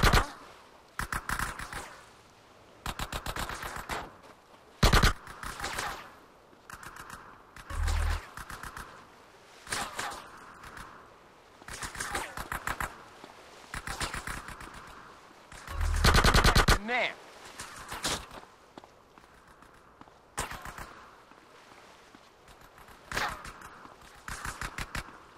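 Rapid automatic gunfire from the Xbox game Grand Theft Auto: San Andreas crackles in repeated bursts through the whole stretch, with scattered scrapes and footstep-like clatter between volleys.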